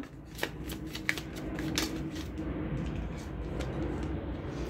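Tarot cards are shuffled by hand in quick, close riffling bursts, a few crisp snaps standing out early, followed by a steady soft shuffling of the deck with no talk.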